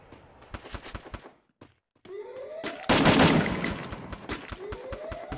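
Rapid bursts of automatic gunfire in a shooting video game, loud sharp cracks in quick strings with short pauses, then a dense sustained volley.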